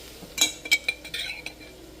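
Minced garlic stirred in a pot for shrimp and crab étouffée; a few close metal spoon clinks and scrapes against the pot, quiet and brief, with no talking.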